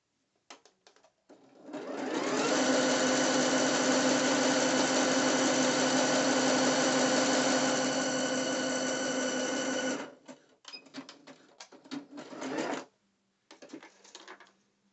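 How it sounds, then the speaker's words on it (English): Sewing machine stitching 3/8 elastic onto two-piece dancewear, a loud steady mechanical whir for about eight seconds, followed by short stop-start bursts of stitching. "So I'm literally on the 3/8 when I'm stitching."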